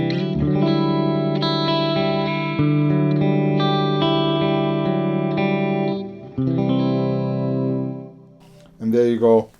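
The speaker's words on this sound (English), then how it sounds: "And there you go, some chorus in the reverb." An electric guitar plays sustained, layered chords through a UAFX ANTI 1992 high-gain amp pedal with chorus and hall reverb, giving a shimmering, spacious tone. The notes ring out and fade, and a short voice comes in at the end.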